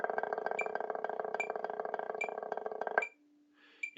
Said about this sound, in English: can hear how I'm sustaining a roll for 4 full counts.